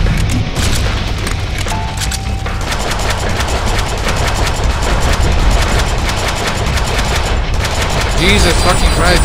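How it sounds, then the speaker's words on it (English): Rapid gunfire in the Deadpool video game, loud sustained bursts of shots and booms firing almost without pause throughout. "I am shooting you!"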